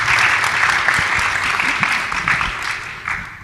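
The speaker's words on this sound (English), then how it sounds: "So please give them an applause and welcome them." Audience applause welcoming panelists at a Hispanic Chamber of Commerce of Louisiana healthcare, technology and innovation event: dense, steady clapping from a roomful of people, loud and continuous before tapering slightly at the end.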